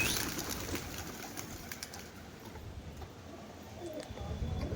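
Soft cooing of caged pigeons in a loft, quiet and close, with a few light ticks and rustles in an otherwise hushed space.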